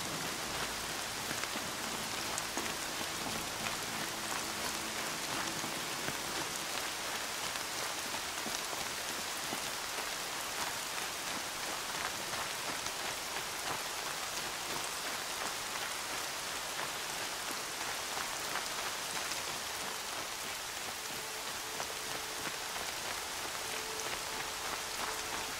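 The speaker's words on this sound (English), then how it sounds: "More rain. My boots will get damp." Steady rain pours down in the open world of Horizon Zero Dawn, a dense, even hiss of drops striking surfaces that continues unbroken for the whole stretch, with a faint low tone underneath and no talk.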